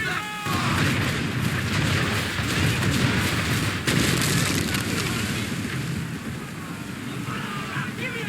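A ship's swivel gun cannon fires in Assassin's Creed III, giving a heavy boom that rolls into a sustained roar of blasts and rumble, loud and close, with no clear talk.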